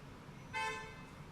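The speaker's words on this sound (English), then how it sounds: "You see that they're blowing me, honking me out." A car horn sounds once on a New Orleans street, a short sustained honk rising out of steady traffic hum and fading after about half a second, moderately near.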